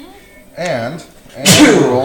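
A single sharp sneeze bursts out close to the microphone at a tabletop game session, right after a brief stretch of talk.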